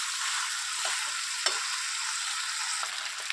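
Mutton sautés with spices and garam masala in a pan, a continuous close sizzle broken by a few soft scraping stirs and light clicks, with no talking.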